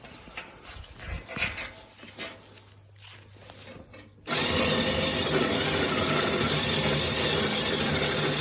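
A winch is ratcheted loose from a harvested deer during a hunt, giving a few scattered mechanical clicks that are followed by a loud, steady wash of noise.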